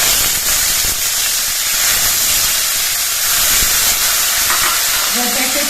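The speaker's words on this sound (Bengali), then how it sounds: "কাঁচা লঙ্কাটা ভাজা হয়ে গেছে এবার এর মধ্যে আমি শাকগুলো দিচ্ছি" Radish greens dropped into hot oil after fried green chillies, giving a loud, continuous hissing sizzle with steamy crackle, while a faint voice speaks briefly near the end.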